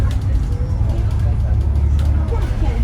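A bus drives along a road through villages in Sai Kung, Hong Kong, with a steady low engine rumble heard from inside the cabin and faint murmuring voices beneath it.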